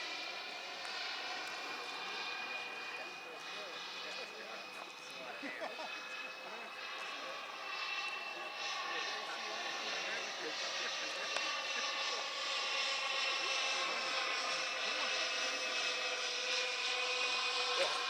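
Giant radio-controlled model B-52 bomber taking off and climbing out, a steady droning engine whine with layered tones holding loud and continuous throughout, with faint voices underneath.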